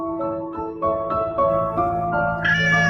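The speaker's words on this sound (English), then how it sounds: "There's a little black cat." A little black cat meows repeatedly in close, loud, wavering cries that rise toward the end, with no talking over them.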